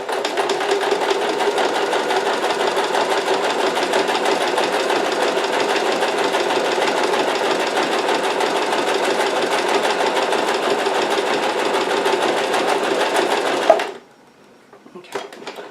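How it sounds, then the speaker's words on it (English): A sewing machine stitches along a fabric edge in one long, loud, continuous run of about fourteen seconds, then stops abruptly, leaving quiet handling noise. "And then we're just going to sew this edge."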